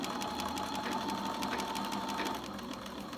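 A sewing machine runs continuously, stitching beret fabric with rapid, even needle clatter and a steady motor hum. It is close and clear, with no talking.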